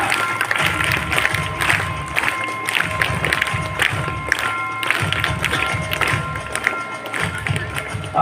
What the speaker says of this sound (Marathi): टाळ्या वाजवायचे जोरदार.